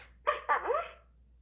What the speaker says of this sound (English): She barking at you.